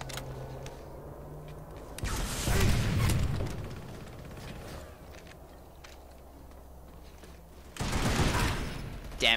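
Gunfire and explosions in the online shooter Planetside 2, with two dense, loud bursts of shooting and booms separated by quieter background battle noise.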